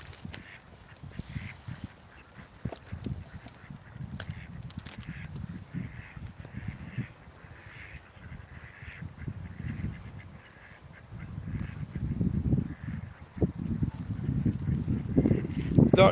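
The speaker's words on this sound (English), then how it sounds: "Ducks in the pond." Ducks on a pond quack in scattered, uneven bursts, soft at first and growing busier and louder toward the end, with faint background noise throughout.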